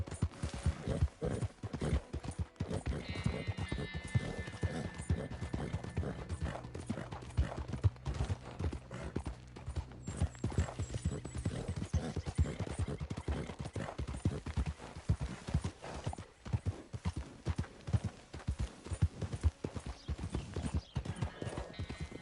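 Steady rapid clip-clop of horse hooves at a gallop in Red Dead Redemption 2, continuous and close, with busy game background sound and no talking.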